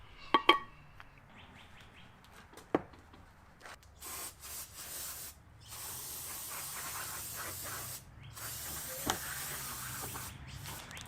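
Faint clicks and rustling lead into repeated hissing sprays from an aerosol can cleaning the brakes of a Mustang GT350, close by, with light bird chirps in the background.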